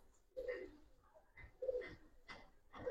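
Giribaz pigeons coo in a series of soft, throaty calls, about four low bursts spaced across a few seconds, close by and fairly quiet, with no talk over them.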